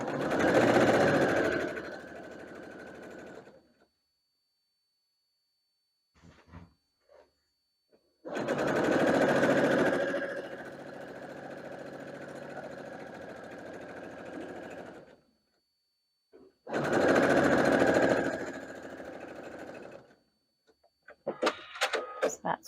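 A sewing machine stitches along both sides of a vintage-style poof-sleeve child's dress, running in three sustained loud bursts of a few seconds each separated by quiet pauses, with brief handling clicks between runs.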